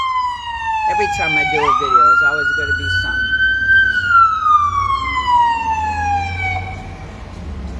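A siren wails loudly through the whole stretch, its pitch sliding up then slowly falling as it passes, with someone talking over it.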